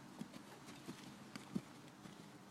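Horse hooves clip-clopping at a steady rhythm during a riding training session, several distinct hoof strikes close by and moderately quiet, with no talk over them.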